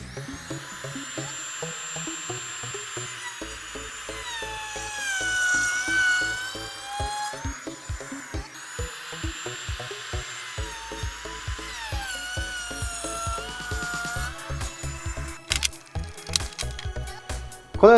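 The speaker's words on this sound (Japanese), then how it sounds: "このような V 字、U 字のトリマービットも同じ要領で加工していくと" A handheld wood trimmer router cuts straight V-shaped and U-shaped grooves along a guide jig, a steady high whine with shifting pitch that rises and dips as the bit bites, with clicks and knocks toward the end.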